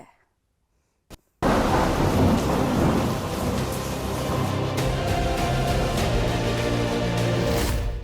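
After a near-silent start, a rumbling thunderclap opens into heavy, steady monsoon rain pounding down at the Shirur landslide site near Karwar, with deep thunder rolling underneath.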